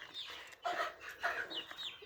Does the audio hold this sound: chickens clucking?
yes